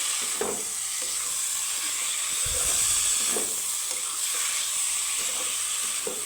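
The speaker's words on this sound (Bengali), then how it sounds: "তো আলু পটলের সাথে মোটামুটি এক মিনিটের মতো আমি সুন্দর করে কষিয়ে নিব" Potatoes and fried pointed gourd sautéed with spices in a pan for a Bengali fish curry, a continuous close hissing sizzle with occasional soft scraping stirs and clinks of the spatula.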